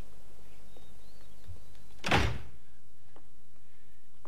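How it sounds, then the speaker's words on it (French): A door swings shut with one short, fairly loud thud, alone against a quiet room hum. "fermez la porte."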